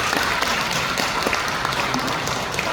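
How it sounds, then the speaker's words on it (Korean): Audience applause at a church devotional service, steady dense clapping throughout at moderate loudness with no voices on top. "큰 박수"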